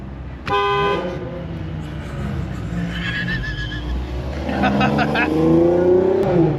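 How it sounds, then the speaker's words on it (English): Car horn honking at a concrete truck in traffic, one long loud blast followed by engine revving, with people talking over the noise inside the car. "Honking at who?"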